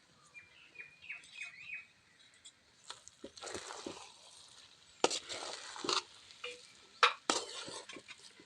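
Wheat rava upma stirred in a pan in a traditional home kitchen: soft, intermittent scraping and rustling strokes, quiet and close, with some sharper clicks of the spoon and faint bird chirps in the background.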